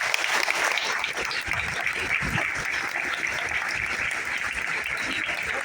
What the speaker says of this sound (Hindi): आपकी जरा जोरदार तालियां मिल सकती है